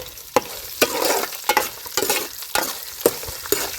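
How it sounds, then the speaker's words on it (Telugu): Onions and curry leaves sizzling in a pan with repeated scraping stirs every half second or so, close up, no voices. "ఇప్పుడైతే ఉల్లిగడ్డలు వేసుకుందామండి ఉల్లిగడ్డలతో పాటు కర్రేపాకు కూడా వేసుకున్నాము"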